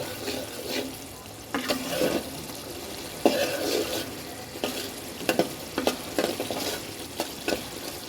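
Spice paste sautéing in a pan for a rui fish and bottle gourd curry, a steady sizzle broken by repeated scraping stirs of the spoon at irregular intervals, close and fairly quiet, with no talking.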